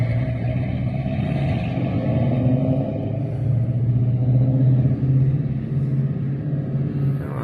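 A car with a 446 engine and a manual transmission rumbles steadily at a local car show. It holds a deep, continuous low-pitched note that swells slightly mid-way and has no talk over it.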